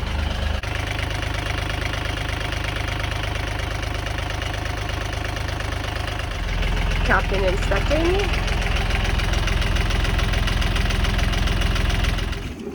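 The inboard diesel engine of a Hallberg Rassy 352 sailboat runs steadily at idle, a close, rhythmic knocking chug that grows slightly louder partway through, with people talking over it.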